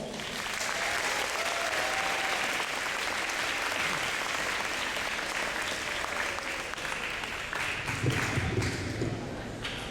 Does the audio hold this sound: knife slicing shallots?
no